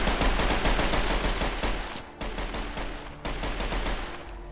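Fast automatic fire from the Marksman New Vegas assault rifle in a Skyrim mod, shot at guards, comes as dense rapid bursts with two brief pauses between strings of shots.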